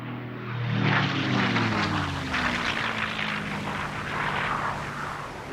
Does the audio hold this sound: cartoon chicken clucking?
no